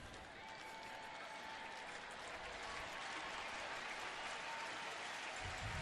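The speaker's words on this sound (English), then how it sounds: "This good crowd comes to life." Baseball stadium crowd at a Texas at Cleveland game in 2011 roars and cheers in a sustained, distant-sounding swell that builds slightly toward the end.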